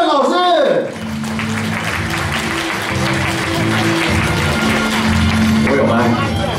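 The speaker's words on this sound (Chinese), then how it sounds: "让我们用最热情的掌声欢迎我们的彩妆天王 Kevin 老师。" An audience at a Japanese beauty-product press event applauds to welcome a makeup guest, steady dense clapping throughout, with background music and a host's voice over it.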